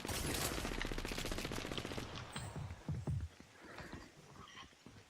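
Rapid gunfire bursts in the video game Fortnite, loud and dense at first, then thinning into scattered, fainter shots.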